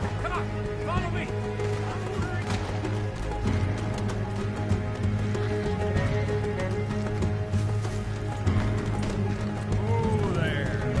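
Galloping horses in Red Dead Redemption 2, a steady clip-clop of hooves with occasional whinnies amid a busy, loud game soundscape, with voices speaking over it.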